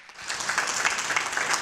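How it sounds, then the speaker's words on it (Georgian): A studio audience at a Georgian comedy show final claps for the third-place winner, a short burst of brisk applause that swells quickly and holds steady. "მესამე ადგილის მფლობელს აპლოდისმენტები"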